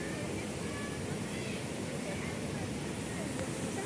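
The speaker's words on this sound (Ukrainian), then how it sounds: "Ось річка так тече." A mountain river in the Carpathians near the Shypit waterfalls rushes in a steady, broad wash of flowing water, close and unbroken, with someone speaking faintly over it.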